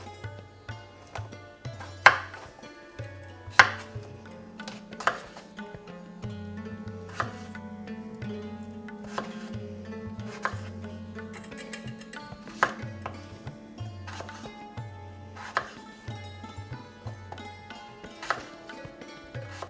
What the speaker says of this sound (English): I'm going to cut each potato into 8 pieces.